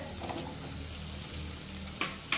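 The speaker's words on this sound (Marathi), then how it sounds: "आता या सर्व भाज्या 2 मिनिटे चांगलं परतून घेऊया" Chopped peas, capsicum and carrots sautéing in a pan for oats upma, a soft, steady sizzle with a couple of sharp stirring clinks near the end.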